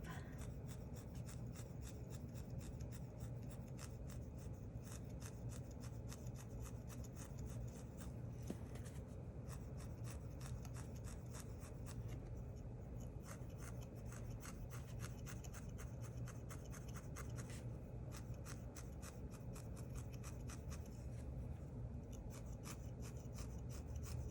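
Needle felting wool on a felted hummingbird, with a steady, continuous rasping and rubbing texture that runs without a break, close by and at moderate level, with no talking.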